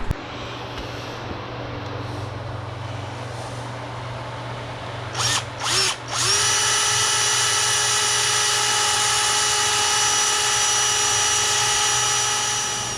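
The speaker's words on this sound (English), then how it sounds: "I'll have to drill these holes out a little bit as well" A power drill whirs at a low steady hum, gives a few brief revs, then spins up to a loud sustained high-pitched whine, close by.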